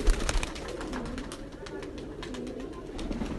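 Soft, low cooing of a yellow-eyelidded pigeon repeats in gentle rolling phrases, close by, over faint background rustle.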